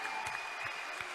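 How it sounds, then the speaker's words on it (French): A crowd at a political party's anniversary gathering gives a short burst of faint, distant-sounding applause as a soft, even wash of clapping. "Je pense que l'applaudissement, ça les vaut."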